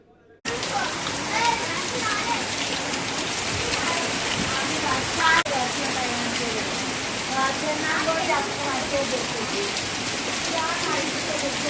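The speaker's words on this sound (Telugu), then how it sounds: "వర్షం ఎలా పడుతుందో చూడండి." Steady rain pours down as a dense, even hiss for the whole stretch, loud and continuous, with faint voices barely audible beneath it.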